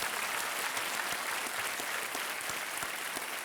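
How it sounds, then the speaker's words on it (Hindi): Studio audience applause on the quiz show KBC, a continuous even wash of many hands clapping at moderate distance, steady throughout with no talk over it. "अभी जब तालियां बज रही थी"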